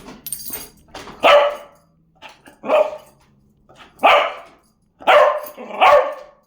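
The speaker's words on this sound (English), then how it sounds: "They love to bark, so you can most definitely teach these Beagles how to bark." Beagle barking in a series of loud, close, sharp barks spaced about a second apart, with softer yips and whimpers in between and no talk.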